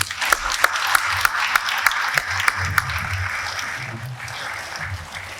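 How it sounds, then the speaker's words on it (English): A summit audience claps as finalists are called to the stage: several sharp, distinct hand claps ring out at first, then settle into softer, steadier applause with a low murmur of voices underneath. "A big round of applause."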